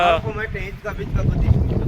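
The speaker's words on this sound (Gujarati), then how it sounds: "એટલો પવન છે ને કે પવન અંદર ધક્કો મારે આપણને" Strong wind buffets the microphone outdoors, a low steady roar and rumble running throughout while a person talks over it.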